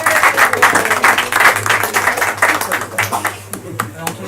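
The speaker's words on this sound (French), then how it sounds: "rien que pour ça, vous avez le droit de l'applaudir." Audience clapping for a slam poet at a live poetry night in a small cave venue in Nice, a dense bright patter of applause that thins toward the end, with a voice speaking over it.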